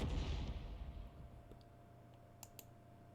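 A tank gun fires in a World of Tanks-style video game, starting with a deep rumbling boom that slowly fades into a low engine hum, then a couple of faint clicks.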